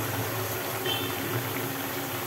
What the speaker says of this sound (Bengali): মোটামুটি ফুট ধরে গেছে, এবার এই জলটা আস্তে আস্তে মরবে।